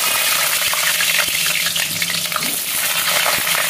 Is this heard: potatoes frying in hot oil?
yes